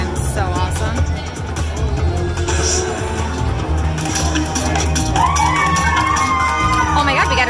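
A casino crowd screams and cheers in a continuous loud wash of shouting, with voices and slot machine chimes mixed in.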